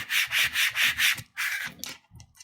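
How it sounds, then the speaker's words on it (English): Rhythmic rubbing strokes, five steady passes then a few shorter ones, a close dry scraping as tape is burnished onto vinyl. "And I'm just going to burnish this."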